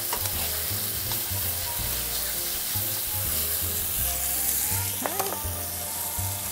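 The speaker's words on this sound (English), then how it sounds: "I'm not going to worry how long I'm cooking this chicken on the stove. I just want it to get a nice brown." Chicken sizzles steadily as it browns in a pan on the stove, with a loud, continuous frying hiss, occasional stirring scrapes and a low hum underneath.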